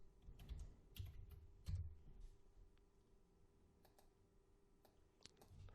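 Someone types on a computer keyboard in quiet bursts of soft clicking keystrokes and a few louder taps, faint and close, with no talk.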